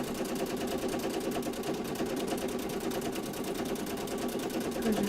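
A domestic sewing machine quilting a simple X pattern, its needle chattering in a fast, steady rhythm that runs unbroken and fairly close throughout.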